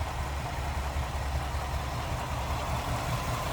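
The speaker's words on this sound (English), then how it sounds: "It's a 272 V8." A 1955 Ford Fairlane Crown Victoria's 272 V8 idles with a steady, low, even rumble, close and continuous without talk.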